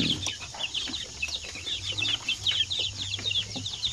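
One-month-old native chickens clucking and cheeping together in a pen, rapid high chirps repeating over a low steady hum, close and fairly busy, with no voices.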